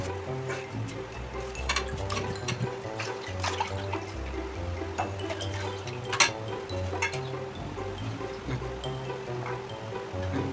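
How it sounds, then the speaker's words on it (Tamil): Ginger being rinsed in a bowl of water while chicken biryani is prepared, a steady close splashing and trickling with small clinks and drips, no voices. "எல்லாம் அலசி எடுத்து வச்சுட்டு இஞ்சி அலசிக்கலாம்."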